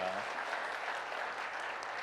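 A church congregation applauds to congratulate a newly appointed honorary deaconess. The clapping is dense and sustained and fills the room evenly.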